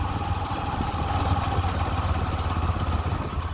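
A motorcycle rides slowly along a rain-soaked, muddy village road in Gujarat, its engine a steady low drone with a faint clatter under constant road and wind noise, no talk.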